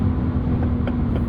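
A 2025 Porsche 911 Carrera S twin-turbo 992.2 downshifts in sport response: a short, low engine rumble with a quick rev blip partway through.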